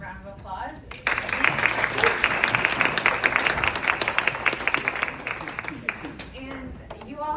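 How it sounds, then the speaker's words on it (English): Audience applause fills a room at a panel event, dense sustained clapping that starts abruptly and carries on steadily for several seconds before fading. "round of applause"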